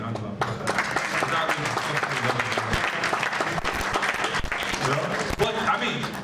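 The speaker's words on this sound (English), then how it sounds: "And I think you need to give me a round of applause." Audience applause at a conversation event with the Lagos governor, steady dense clapping over about six seconds with a voice talking underneath.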